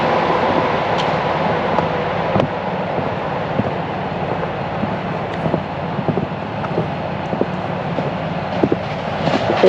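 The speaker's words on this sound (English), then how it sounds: "There goes a train going past." A train passes near Scarborough Mere, a steady broad rumble of rolling wagons with faint rhythmic clicks and some wind noise throughout, no voices.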